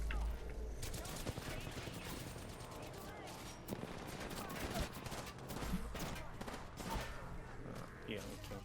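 Gunfire in a video game heard through a wall, with dense bursts of rapid shots that run almost continuously, under steady game noise and some talking.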